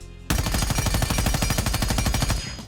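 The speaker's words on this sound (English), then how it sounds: "Onto the Commando 9, which, yes, is classified as a AR in the game, despite, I think, being chambered in 9mm." Commando 9 rifle, a 9mm assault rifle in the video game Rainbow Six Siege X, firing one sustained full-auto burst of rapid, evenly spaced loud shots lasting about two seconds, with no talk.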